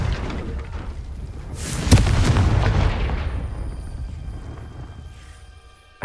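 A Confringo spell explodes in the video game Hogwarts Legacy, a loud booming burst that rumbles and slowly fades over several seconds, with no speech.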